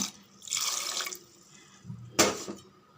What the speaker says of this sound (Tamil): ஒரு 2 டம்ளரு தண்ணி ஊற்றிடுங்க